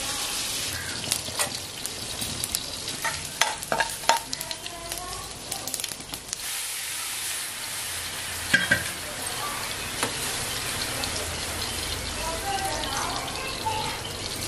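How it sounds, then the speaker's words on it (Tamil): Spices sizzling in hot oil while tempering a tomato rasam, a steady mid-loud crackle and hiss with occasional sharper pops and some stirring, and a brief voice heard faintly underneath. "இப்போ வந்து இந்த ரசத்தை வந்து தாளிச்சிடலாம்."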